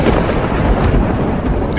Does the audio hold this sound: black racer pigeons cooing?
no